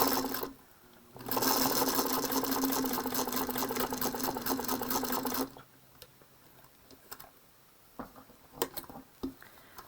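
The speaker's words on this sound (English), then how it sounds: "So I take a couple stitches forward and then I go backwards just till I'm at the edge" A sewing machine stitches a bordered placemat in a steady mechanical whir for several seconds, then stops, followed by soft clicks and handling taps.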